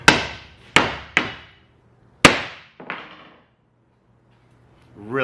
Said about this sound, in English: Let's try the hammer test.